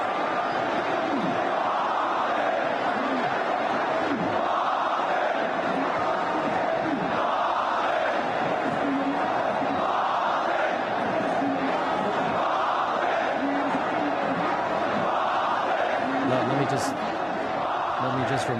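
A large crowd of protesters massed in a square, their chanting and shouting forming a dense, continuous roar that never lets up, with rhythmic surges of voices throughout.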